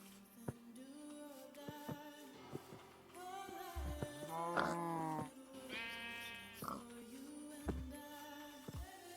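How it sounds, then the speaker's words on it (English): Sheep in a Minecraft game bleat repeatedly in short, nasal, wavering calls, several overlapping at moderate volume over a faint background. "Oh, the sheep would be really good"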